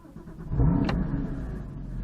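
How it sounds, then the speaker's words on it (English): A Porsche Cayman GT4 engine cranks and catches, settling into a steady low idle after a brief starter whine, close by. "I'll stick my foot on the clutch and I'll start the engine"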